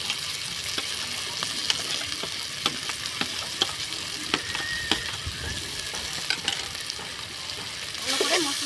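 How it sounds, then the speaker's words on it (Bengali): Ground cumin, dried chilli and ginger paste fry in a pan with a steady close sizzle, broken by repeated scraping and knocking as a spatula stirs it, rising slightly louder near the end. "ভালো করে মশলাটা আমি কষিয়ে নেব"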